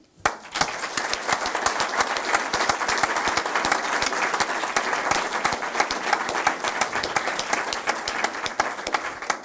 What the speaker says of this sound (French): il faut qu'il se fait applaudir par des DRH quand même